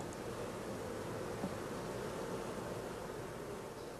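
Honey bees fill a small nucleus hive box with a dense, even hum. The buzzing stays close and steady, with no voices.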